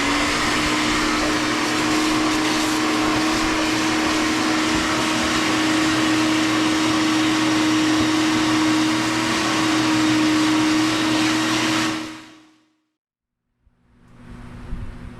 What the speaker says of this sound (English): I'm going to take my little shop vac here, and I'm just going to vacuum this out